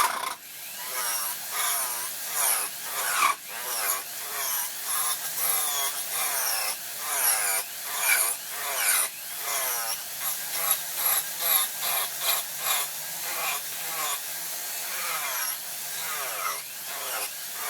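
A power tool grinds and sands a wooden guitar-style neck to round it off, giving a steady abrasive whir broken by repeated rough, scraping strokes close by, with no talking.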